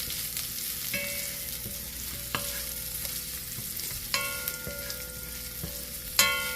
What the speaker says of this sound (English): so I'm going to saute this just a little bit. All this is just onion with a little bit of oil